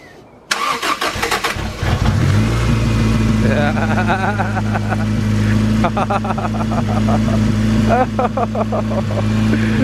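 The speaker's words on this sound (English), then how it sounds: "Hopefully we got enough juice to crank the car over." A Honda B20 VTEC turbo engine with no muffler cranks and fires up in an Integra DB1, then idles loud and close with a steady rumble and sharp revs, while people talk over it.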